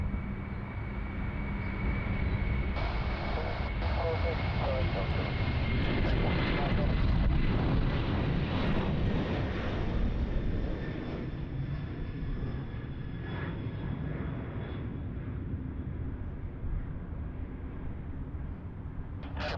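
An airliner takes off at Sydney Airport, its jet engine roar loud and steady, with rising engine tones fading slowly as it climbs away. A person talks over the noise.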